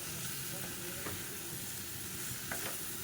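Food frying in a pan, a faint, even sizzle and hiss throughout, with a few soft stirring scrapes near the start and toward the end.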